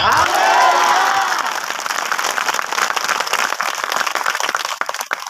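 Church congregation breaks into loud applause and cheering during a meeting, a dense wash of many hands clapping that starts full and steady, then thins slightly with scattered crowd voices underneath.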